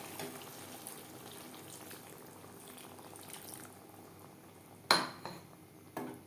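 Water poured into a pan of spice-coated pointed gourd for a vegetarian potol curry, a soft, steady wash of liquid and low bubbling with a sharp clink of the pan near the end and another just after.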